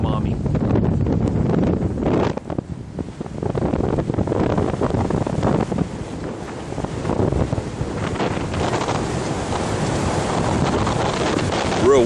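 Strong wind roars continuously across the microphone, a dense rumbling rush with constant gusts throughout.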